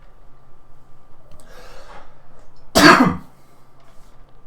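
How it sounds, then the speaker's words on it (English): A single sharp cough bursts out after a faint breath, loud and close against an otherwise quiet background. "Oh, coughing."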